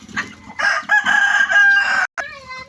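A rooster crows loudly and close by in one long drawn-out call, then starts a second crow.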